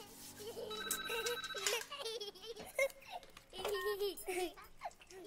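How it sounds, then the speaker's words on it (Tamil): In a Tamil film scene a telephone rings in bursts of electronic warbling, mid-distance, mixed with voices, a child's chatter and background music. "ஏய், ஃபோன் எடுங்க."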